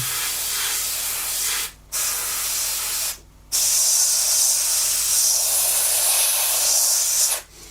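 Bursts of aerosol spray hissing close by, three sustained sprays separated by short silent gaps, overcoating a Trumpeter 1/32 F-14D Tomcat scale model.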